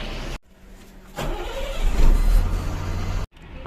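SETC long-distance seater-sleeper bus pulling away, engine noise rising to a loud rumbling drive after a brief quiet gap, then cutting off abruptly near the end.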